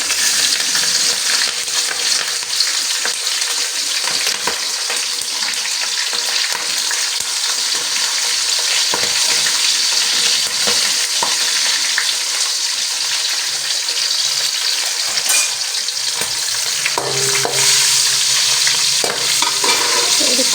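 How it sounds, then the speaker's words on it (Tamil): Green chilies fry and sizzle in a pan with oil while being stirred, a steady dense hiss with scraping stirs throughout, close and loud, with no talking. "இது லைட்டாக ப்ரௌன் கலர் வரும் பொழுது நம்ம பச்சை மிளகாயை போட்டுக்கலாம்."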